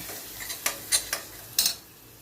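Small onion paste simmering in oil while being stirred with a utensil, a steady soft sizzle broken by several short scraping strokes, close and with no voices.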